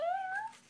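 A voice imitates a cat's meow with a single rising, drawn-out whine that slides upward and fades, heard close and alone.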